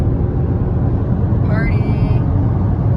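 Steady low road rumble fills a car's cabin on a family drive through New Hampshire, constant and close throughout, with a brief high chirp near the middle.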